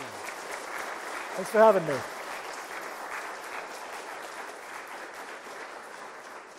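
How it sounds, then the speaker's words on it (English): Steady audience applause fills a creature concept design event at Gnomon, sustained clapping from a crowd throughout, with someone briefly speaking over it near the start. "let's everybody give Ian a huge round of applause"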